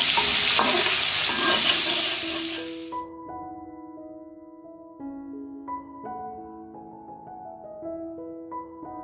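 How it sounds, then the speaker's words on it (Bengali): Mixed vegetables frying with salt and turmeric in a pan give a loud, dense sizzle for about three seconds, then cut off abruptly. Soft music with no frying sound follows. "একে একে সবজিগুলো লবণ হলুদ দিয়ে ভেজে তুলে নেব"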